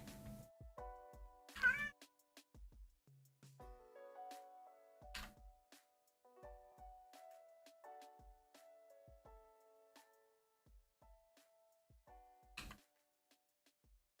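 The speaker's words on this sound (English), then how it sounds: "He's just sitting behind me meowing a bunch." A male cat meows repeatedly behind a person at a desk, a string of close, clear, varied meows with short gaps in an otherwise quiet room.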